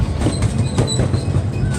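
A miniature Santa Fe Railroad train rolls along the tracks at McCormick-Stillman Railroad Park, with steady close rumble and clickety-clack of wheels and faint squeals throughout.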